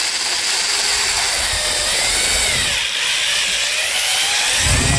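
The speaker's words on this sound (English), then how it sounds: "you don't want the hone to stop inside the cylinder." A steady high-pitched drill whine drives a hone inside a cylinder bore of a 5.3 engine, continuous and close, with a brief dip partway through.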